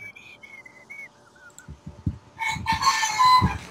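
A Minecraft chicken clucks and squawks in a busy burst of bird calls, loud and close, following softer whistling tones and scattered thumps from a SkyWars match, with no voices.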